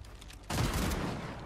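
Gunfire in Fortnite bursts out as a quick rapid volley after a brief quieter lead-in, loud and dense for about a second.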